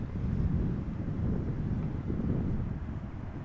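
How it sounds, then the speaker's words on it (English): Crosswind at Amsterdam Schiphol Airport roars as a continuous low buffeting rumble against the microphone, steady and fairly loud throughout with no voices. "Got a little bit of crosswind today."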